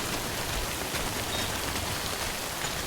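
Steady rain falls in the video game Death Stranding, a dense, even hiss of drops on surfaces that holds constant throughout the short stretch with no voices.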